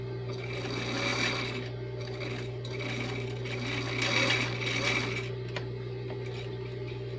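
A sewing machine stitches the strap seam of a dress, running steadily and closely throughout with an even mechanical hum and rapid needle chatter.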